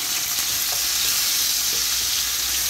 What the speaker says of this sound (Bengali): তো এখন তেল দিয়ে দিলাম, এখানে পেঁয়াজ কুচি দিয়ে দিলাম